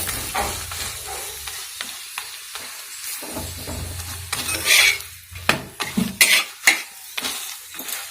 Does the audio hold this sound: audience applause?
no